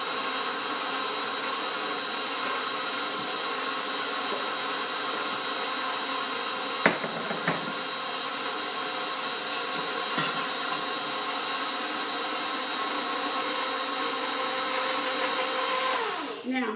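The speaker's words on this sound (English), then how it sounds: "I'm going to turn the mixer on, it's kind of noisy." An electric stand mixer mixes king cake dough with eggs, yolks and flour in a loud, steady motor whine that runs throughout at close range, broken by a few brief knocks and clicks.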